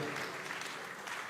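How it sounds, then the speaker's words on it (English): Audience applause at a school panel discussion, a brief burst of dense clapping that stays steady and fills the room without pause. "I guess a bigger applause is in order for all of them"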